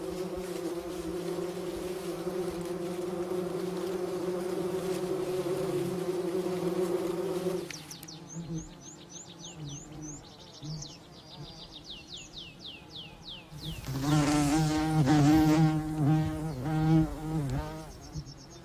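Bumblebee colony near the edge of an alpine meadow: steady, low droning buzz of several bees for several seconds, then other insects whining and a closer bee buzzing loudly and unevenly, with no talking.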